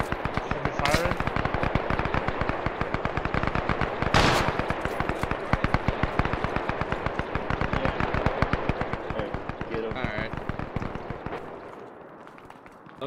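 A machine gun firing tracer rounds in a WWII battle game, with long, rapid, sustained bursts of close, loud automatic fire that taper off near the end. Voices are occasionally heard beneath the shots.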